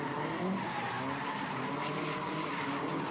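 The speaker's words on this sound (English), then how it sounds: "Love the sound of those flat 4 engines" Subaru flat-four gymkhana rally cars at a 2015 Gymkhana Grid final, revving hard with continuous tyre skidding and engine growl, loud and sustained throughout.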